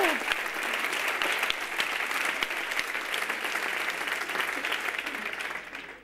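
Sustained audience applause at a children's educational session, a dense, even wash of many hands clapping that holds steady for several seconds before easing slightly at the end.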